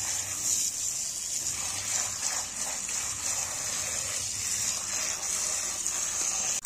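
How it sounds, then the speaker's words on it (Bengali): Steady rush of tap water running continuously while potatoes and radish greens are rinsed in a home kitchen, a constant close wash with no talk. "এবার আলু আর এই গোড়াগুলোকে ধুয়ে নিচ্ছি"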